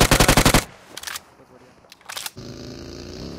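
Rapid bursts of automatic gunfire ring out in an online shooter match, loud and close, followed by a couple of sharper shots and a steady electronic hum.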